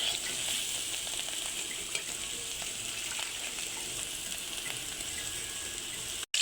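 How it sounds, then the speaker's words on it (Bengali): Bitter gourd fries in a pan with a steady, dense sizzle that holds at an even level throughout, close and continuous, with faint stirring clicks and no voices. "তো এই যে এইখানে করলা ভাজি করা হইতেছে।"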